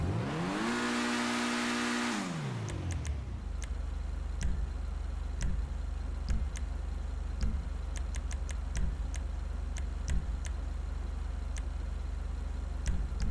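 Turbocharged car engine in GTA V Online revs hard in a rising-and-falling sweep, then settles into a low steady idle punctuated by sharp, evenly spaced ticking clicks.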